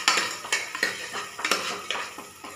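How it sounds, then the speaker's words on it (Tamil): A metal pressure cooker is set onto a home kitchen stove while cooking radish gravy. It gives a quick run of sharp, close metallic clinks and knocks in an irregular rhythm. "அதுக்கப்புறம் வாங்க குக்கர் எடுத்து அடுப்பில் வச்சு"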